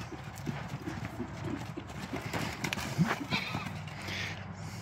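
Hooves of horses, among them Roni and Annie, clip-clop in a close, irregular patter that runs through the whole stretch, with talk layered over it and now and then a soft snort.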